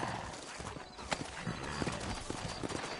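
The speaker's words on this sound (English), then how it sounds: "You ain't gonna find sturdier horses than these in all of New Ulster." Horses walking in Red Dead Redemption, set in the frontier town of New Ulster, their hooves clip-clopping in an uneven rhythm of soft knocks beneath dense game ambience and a faint whinny.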